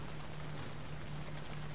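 Steady rain pouring down in the video game Nioh, a dense even hiss of falling drops with a faint low hum underneath, continuous and unbroken throughout.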